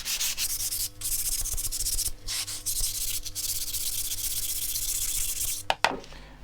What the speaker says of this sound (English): So basically sand them. This is an old bit of 320 grit.